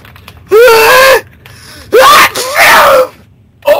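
Two loud, close vocal bursts sound like a strained sneeze and a gasping follow-up, separated by short quiet gaps, with a brief third burst at the end.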